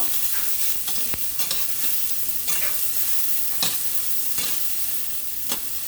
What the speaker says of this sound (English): just gonna saute them up a little bit